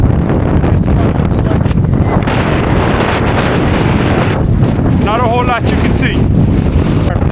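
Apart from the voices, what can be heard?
wind blowing into the microphone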